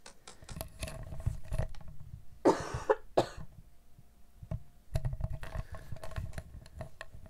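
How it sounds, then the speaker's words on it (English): A few sharp coughs burst out in quick succession midway, set against quiet scratchy handling noises and light tapping. "You gotta love it when the coughing fits have started"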